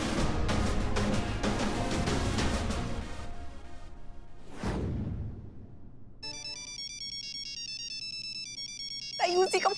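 A phone ringtone in a Hindi TV police comedy plays as a bright, repeating electronic melody from about six seconds on, after a loud burst of music and a whoosh, then ends in a sharp clatter.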